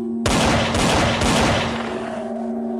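Rapid burst of loud gunshots fired repeatedly in quick succession, close and sharp, fading into a ringing tail.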